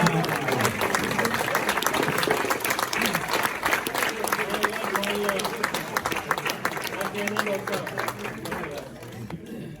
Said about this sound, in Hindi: बहुत सारी तालियां डॉक्टर साहब।